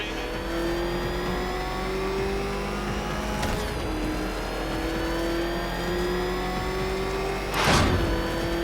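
Batmobile engine in Batman: Arkham Knight holding a steady, sustained rev with a constant drone throughout, swelling into a brief louder roar near the end, with no voices.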